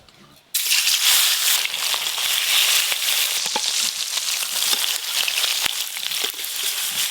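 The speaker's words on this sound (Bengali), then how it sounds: "এই ধরনের মশলা এই প্রথম বাটছি" Spice paste made from fried spices and garlic is ground by hand in a home kitchen, giving a steady, loud, gritty scraping that starts abruptly and continues without a break.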